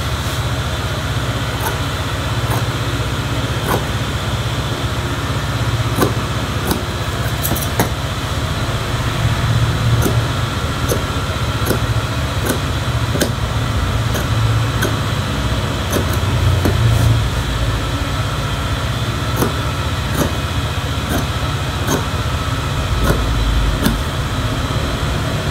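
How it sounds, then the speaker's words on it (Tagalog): A strong electric fan blows steadily through a room where a school uniform collar is being repaired, its broad, even whoosh continuous and fairly loud throughout, with faint light clicks and no speech. "Malakas ang hangin ng electric fan ko eh."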